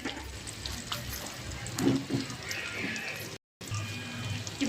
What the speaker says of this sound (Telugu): ఇట్లా ఫ్రై అయింది